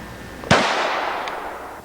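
A single sharp gunshot fired at a target down a hallway during a shooting drill, a loud close crack followed by a long reverberant decay, with a faint second report about a second later.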